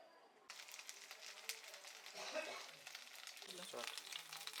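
Stuffed potato-paneer semolina momos sizzle and crackle in hot oil in a pan, a close, steady frying hiss with a few soft stirring scrapes.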